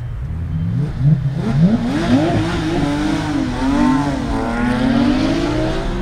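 A Porsche engine, either a 997.2 GT3 or a Panamera 4 Hybrid, revs while driving, with a deep engine note that climbs and falls in pitch through several rising sweeps and a steady road rumble underneath.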